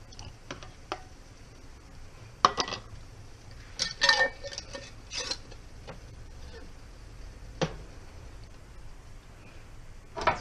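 Metal lid and band clinking onto a glass canning jar of chicken broth, several light close clinks and taps spread across a quiet kitchen background, with faint movement between them.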